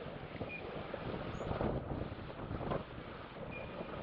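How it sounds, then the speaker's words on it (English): Strong, steady wind roaring across the microphone outdoors while a Dragonforce 65 RC sailboat sails on water, a dense constant rush with gusty swells and no speech. "You notice in the strong winds, it doesn't go fast."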